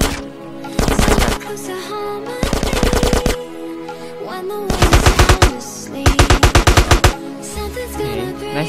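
Bursts of rapid automatic machine gun fire in a SWAT mission video game, five loud close volleys of about a second each separated by short pauses filled with game background sound.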